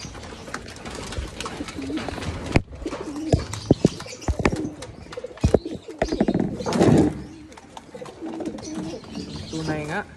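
Pigeons coo softly in low, throaty bursts nearby, with wing flutters and a few knocks, while a person talks at times.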